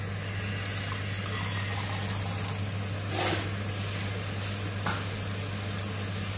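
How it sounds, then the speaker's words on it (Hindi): Water is poured into a hot pan of kaju masala whose oil has separated, with the gas on full. A steady, dense sizzle and hiss runs throughout, with a few brief splashy surges and a low hum beneath. "थोड़ा पानी डालूंगी"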